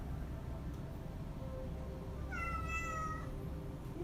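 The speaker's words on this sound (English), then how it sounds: "That's one of my other kitties" A pet cat named Mia lets out a single clear, drawn-out meow at moderate distance in a quiet room during a yoga class, with faint background hum and no talking.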